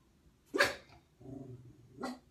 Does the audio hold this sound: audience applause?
no